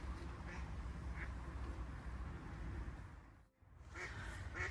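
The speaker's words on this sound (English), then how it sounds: "You'll have to excuse the duck." A duck quacks faintly now and then on a winter carp fishing lake, short nasal calls sitting under steady background noise, with a brief quiet dip near the end.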